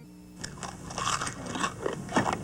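Close, crisp crunching of corn ball cereal being bitten and chewed, several brittle crunches in quick succession, no speech.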